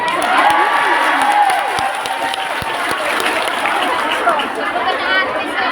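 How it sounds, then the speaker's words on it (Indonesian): An audience of Indonesian migrant workers in Hong Kong applauds at an official ministerial visit, a loud, sustained wash of clapping with a few cheers and crowd chatter mixed in. "Ini tepuk tangannya untuk teman-teman semua."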